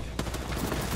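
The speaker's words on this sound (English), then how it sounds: "Opening fire on the enemy" Video game gunfire aimed at an enemy during a ranked match, a rapid run of sharp overlapping shots with a strong low-end thump, steady and close throughout.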